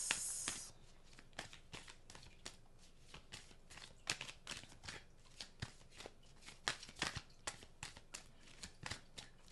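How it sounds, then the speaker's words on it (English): A deck of tarot cards being shuffled by hand, rapid repeated riffling flicks and soft slaps in an uneven rhythm, close and quiet with no talk. "I'm going to do that shuffle again because this is a lot of cards."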